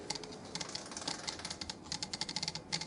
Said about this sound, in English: Bevel mechanism in there, just clicking around on the teeth